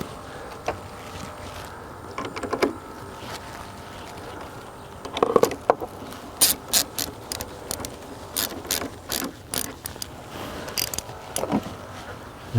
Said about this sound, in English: take that 10 millimeter deep socket and remove the negative battery terminal first